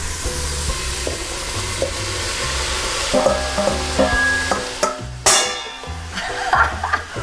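Celery sizzles steadily in butter and oil in a hot pan, with occasional stirring scrapes, under light background music.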